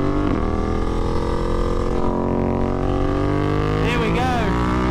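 BMW F900 R Cup race motorcycle on a track, its loud engine drone rising and falling steadily as it passes close by, harmonic whine sweeping throughout with no talk over it.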